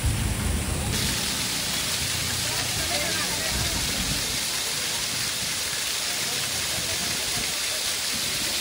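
A loud, constant roar of rushing water from a waterfall and heavy monsoon rain at Malshej Ghat fills the air, with a voice briefly audible in the first second.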